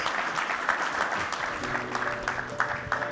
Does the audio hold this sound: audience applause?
yes